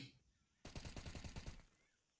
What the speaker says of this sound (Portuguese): Vem os tiros.